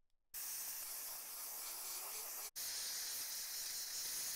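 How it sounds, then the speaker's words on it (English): Compressed air blasts dust out of an ATX power supply outdoors, two sustained loud hissing bursts separated by a brief pause. "I'm just gonna clean it up on the outside and blow it out with compressed air"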